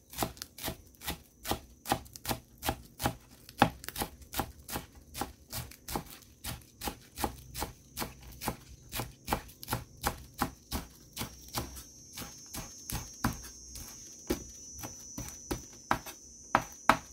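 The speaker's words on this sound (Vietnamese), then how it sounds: "cái khúc lá này thì mình sát nhuyễn để mình để vô trong chả cho nó thơm á" Leaves being finely chopped with a knife on a cutting board, for chitala fish cakes in a bitter melon hotpot: rapid, evenly spaced knocks, about two per second, close and continuous.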